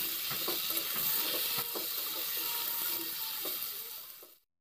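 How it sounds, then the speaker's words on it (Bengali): Flat beans and carrots fry together in a pan, giving a steady broadband sizzle with a few soft scraping stirs. It stays fairly even and close for about four seconds, then stops abruptly. "এখন শিম আর গাজর মিলে একসঙ্গে আরও একটু ভেজে নিচ্ছি"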